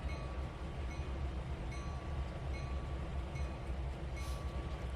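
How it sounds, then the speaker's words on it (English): A train shunts in the Trainz 2019 video game, a low continuous rumble of rolling stock with faint squeals and clicks, steady and moderately quiet, with no talk. "We are shunting."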